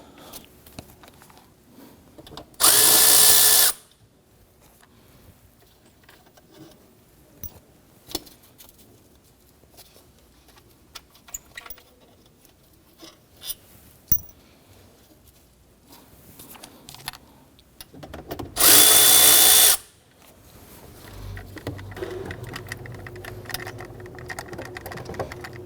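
A power tool spins out bolts on a 2011-2014 Kia Sorento engine during a knock sensor job, giving two loud whirring bursts of about a second each, far apart. Quiet handling clinks and rustles fill the gaps between them.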